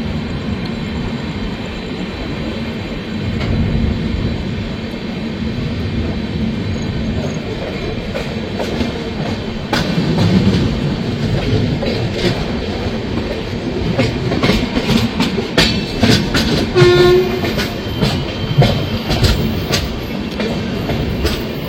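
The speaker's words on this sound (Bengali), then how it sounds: "(12277) হাওড়া পুরী শতাব্দী সুপারফাস্ট এক্সপ্রেস।" Howrah–Puri Shatabdi Express train running, a loud continuous rumble of wheels and carriages with rhythmic clicking on the rails throughout; no clear horn stands out.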